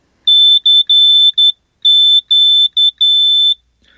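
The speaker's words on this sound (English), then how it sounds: "we'll see if we can make it beep" A small CW kit built into an Altoids tin, powered by two coin cell batteries, gives a clear, loud, high-pitched electronic tone that starts and stops quickly in a burst of eight keyed beeps of varied length, like Morse code, with quiet gaps between them.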